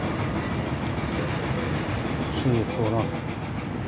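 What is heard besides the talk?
tram riding along rails with passengers aboard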